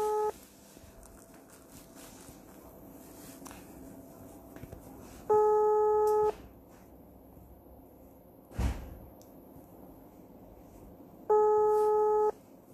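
Telephone busy signal during a phone call: three separate bursts of steady beeping tones, each lasting about a second, spaced several seconds apart over a quiet line with a faint low hum and a single sharp click.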